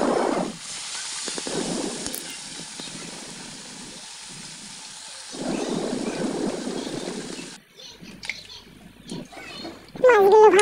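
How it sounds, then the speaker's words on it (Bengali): Bhola fish pieces fry in hot oil in a wok with a loud, steady hiss and crackle that fades and swells, giving way near the end to quieter sounds. "কড়াইতে মাছটা হালকা করে ভেজে নেবো।"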